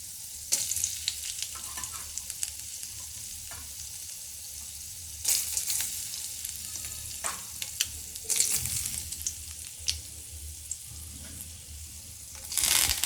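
Mustard seeds, chana dal and urad dal frying in hot oil for upma, a crackling sizzle with repeated bursts of popping and stirring scrapes, close and without voices.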